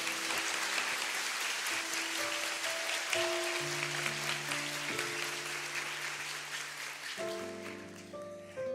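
A church congregation applauds hard and steadily, a dense wash of clapping over sustained keyboard chords that change a few times, with no talk.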